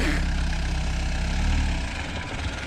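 A motor engine runs in a steady, low droning rumble that holds close and fairly loud from start to finish, with a slight swell partway through.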